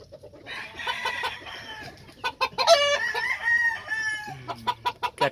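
Kelso gamefowl chickens cluck and crow close by, with a long crow and quick repeated clucks rising over a quiet farmyard background.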